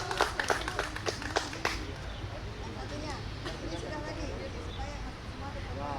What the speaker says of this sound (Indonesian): Silakan tepuk tangannya dong